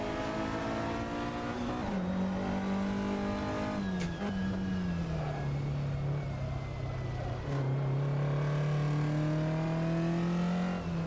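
Vintage GT race cars, Ferraris among them, in a sim racing game: a sustained engine drone that climbs and drops with gear changes and throttle, plus other cars' engines and a faint tire squeal.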